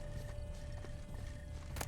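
Horse hooves clip-clop on the ground in The Witcher 3: Wild Hunt's Blood and Wine expansion, a quiet, steady rhythm of hoofbeats over a low game ambience.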